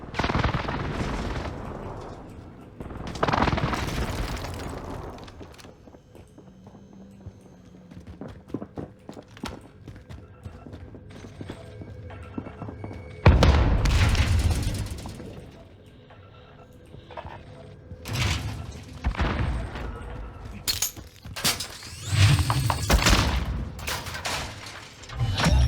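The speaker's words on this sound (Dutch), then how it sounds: "Enemy precision airstrike." Video game warfare: heavy explosions from an enemy precision airstrike burst loudly in several separate rounds, mixed with gunfire and footsteps, the blasts fading between impacts.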